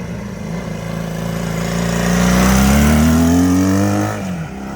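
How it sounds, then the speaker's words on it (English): A small twin-cylinder 175 motorcycle engine, a 1968 Honda CD175 Super Sport with dual exhaust, revs up steadily, its exhaust note climbing in pitch, holding loud and close, then dropping back to idle. "Got a nice little exhaust note to it. Dual exhaust, twin cylinders, dual exhaust."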